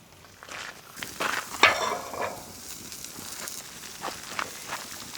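Butter melting in a pan over a campfire outdoors, a soft crackling sizzle with a few brief scraping and clinking touches and faint rustling around it, quiet and close, no talk.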